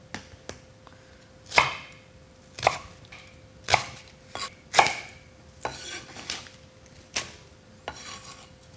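Knife strokes cutting vegetables into thick julienne on a cutting board, a series of sharp, close chops spaced about a second apart with quieter scraping between, no voices.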